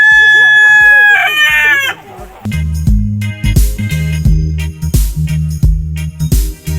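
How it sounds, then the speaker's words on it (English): A rooster crows loudly and close at the start, followed by chickens clucking in repeated short bursts on a farm in Pamplona, Negros Oriental, with no talk over them. "These chickens are so expensive."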